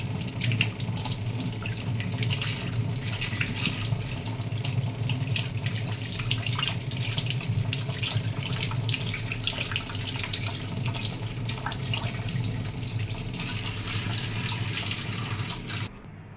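Raw snails are washed under running tap water, giving a loud, continuous faucet stream splashing into a sink, steady close up and broken only by small handling noises until it stops at the end.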